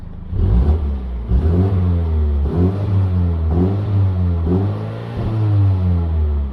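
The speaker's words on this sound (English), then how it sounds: "But if I rev it up now" A BMW F40 M135i xDrive engine revs repeatedly, rising and falling in several surges with a throaty exhaust note, loud and close with no talking.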